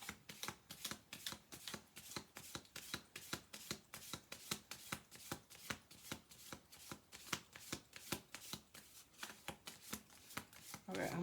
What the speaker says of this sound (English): Okay, I'm going to do one more shuffle through, and then I'm going to pull from the top and bottom.